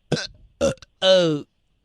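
Three short burp-like throat sounds in quick succession, the last one longer and more tonal, loud and close against silence, with a voice that seems to imitate a burp.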